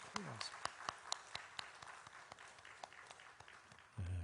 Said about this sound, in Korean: 박수 한번 더 하겠습니다